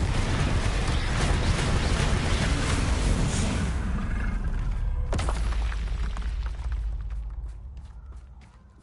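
A Confringo spell explodes in Hogwarts Legacy, giving a loud, sustained roaring blast that fades into a sharp crack, followed by scattered debris clatters and a slowly dying rumble.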